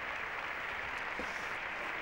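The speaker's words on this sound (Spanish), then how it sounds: "el aplauso ha sido general entre los suyos y ha sido bastante prolongado" Sustained applause fills a session of the Spanish Congress of Deputies: a dense, even wash of many hands clapping together, steady and loud from start to finish with no break.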